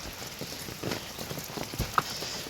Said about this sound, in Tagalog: Ngayon lang umulan na naman sa ulit.